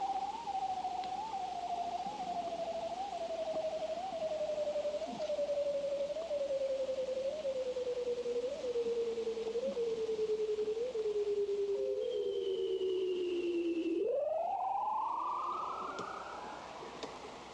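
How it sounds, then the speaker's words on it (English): A bearded seal's long, slowly descending underwater trill warbles in regular pulses, then ends in a sharp upward sweep, clear and alone against steady background hiss. "that's the sound of a bearded seal"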